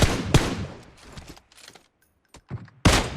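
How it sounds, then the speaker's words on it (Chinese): Kar98k sniper rifle shots in PUBG ring out as a few sharp, loud cracks separated by pauses, with softer clicks and handling sounds between them. "我果断开枪，成功击倒一个，随后又调转枪口打向另外一人"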